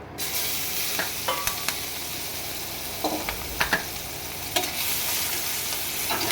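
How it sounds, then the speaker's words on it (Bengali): Spice-coated shrimp fry in a hot pan with a steady, dense sizzle, broken by occasional clinks and scrapes of stirring; no one speaks. "চিংড়ি মাছটা এবার মশলা মাখিয়ে নিয়েছি, এবার আমি এর মধ্যে দিয়ে ভেজে নেব।"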